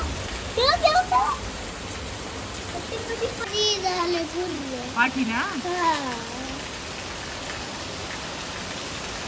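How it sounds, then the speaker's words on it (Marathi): Heavy rain pours in a steady, dense hiss throughout, with a couple of voices talking over it. "बापरे किती डेंजर पाऊस येतोय"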